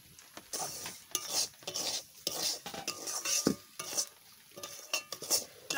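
A spoon scrapes and clatters around a pan as semolina is stirred after water and salt are added, with steady, uneven metallic strokes close by and no talking.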